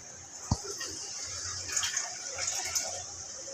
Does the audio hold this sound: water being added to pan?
yes